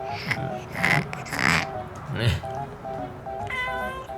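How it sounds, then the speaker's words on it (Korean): A young black kitten gives several short meows amid people talking nearby, with a higher, thinner mew near the end. "아직 애기 고양이 같아요"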